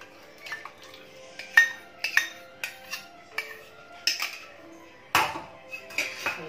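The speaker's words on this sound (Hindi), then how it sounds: "अब इसमें हम ये दही डालेंगे।" Curd is spooned into a pan for besan curry: a quiet series of separate metallic clinks and scrapes of a spoon against cookware, spaced irregularly over otherwise near silence.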